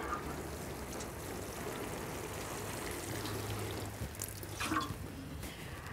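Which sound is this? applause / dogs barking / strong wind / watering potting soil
watering potting soil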